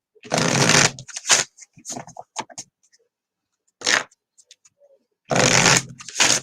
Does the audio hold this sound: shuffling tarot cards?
yes